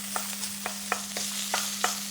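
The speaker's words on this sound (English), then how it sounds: "I'm going to throw my pork in now" Pork sizzling in a hot pan, a steady hiss with a constant low hum beneath and regular short scraping taps as the meat is moved around, no speech.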